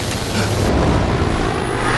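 A loud, steady engine roar from an out-of-control airplane fills the whole stretch, a dense broadband drone with no voices.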